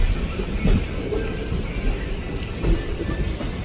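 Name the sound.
DEMU train arriving at Kalaburagi railway station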